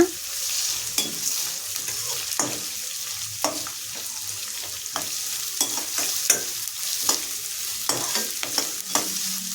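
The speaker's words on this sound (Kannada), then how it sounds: "ಸ್ವಲ್ಪ ಕರಿಬೇವನ್ನು ಸಹ ಸೇರಿಸಿ ಮತ್ತೊಮ್ಮೆ ಇದನ್ನು ಹುರಿಯೋಣ" Onions and curry leaves sizzle steadily in hot oil in a pan while being cooked for a ridge gourd palya, with a continuous hiss and sharp scrapes of a spatula stirring at irregular intervals.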